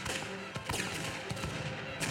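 Stage gunfire volley in a high school production of Les Misérables: a series of sharp bangs and cracks, several shots spread unevenly over two seconds, loud and close against a busy, reverberant hall background.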